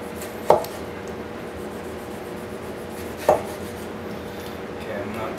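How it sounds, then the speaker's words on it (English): A knife chops a Hawaiian pizza topping into small pieces on a board, making two distinct, fairly loud chops a few seconds apart over quiet room background. "And then we'll cut it into the smallest pieces possible."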